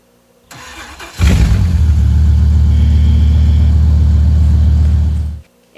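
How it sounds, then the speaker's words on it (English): A Dodge Dually pickup truck's engine cranks and catches, then runs at a loud, steady low idle for about four seconds before shutting off abruptly, with no talking. "It was the Dodge Dually."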